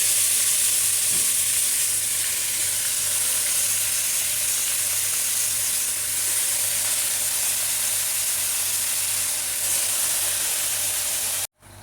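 Mutton sizzling and frying in a pan with onions roasted until red, a steady close hiss that continues without pause, with faint stirring, then cuts off abruptly at the end.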